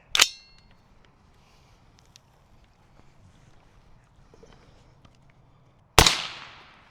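Two sharp, loud 5.56 rifle shots with green-tip rounds striking a Tesla battery pack outdoors, one at the start and one near the end, each a crack with a brief decaying tail, separated by quiet ambient noise.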